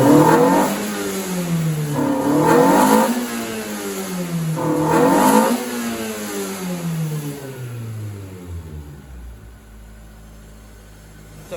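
Toyota Corolla TE31 with a Beams 3SGE engine and the fuel pressure set high, revving loud and close in three rising-and-falling blips that climb but stall short, then dropping back to a quieter idle.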